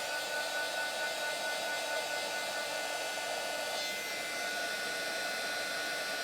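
Heat tool melting clear embossing powder makes a steady, loud, airy blowing roar that runs unbroken throughout, with no talk.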